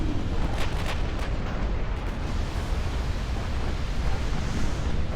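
Warship 8-inch guns firing in an Ultimate Admiral Dreadnoughts naval battle, heard as a continuous loud rumbling roar of distant booms blending into one dense wash of noise.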